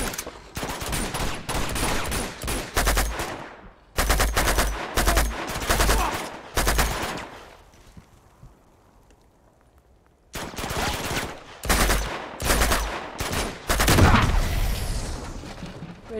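Bursts of automatic gunfire in the Uncharted 2: Among Thieves Remastered game on PS5, loud clusters of rapid shots separated by a quiet lull, with heavy booming impacts mixed in.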